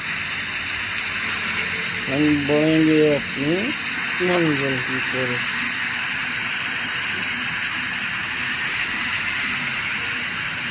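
Heavy rain pours steadily in the mobile bus-driving game Bus Simulator Indonesia on an off-road map, a constant broadband hiss throughout, with someone speaking briefly over it.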